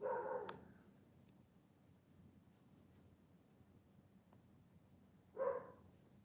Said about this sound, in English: Angel keeps barking when she hears Finn.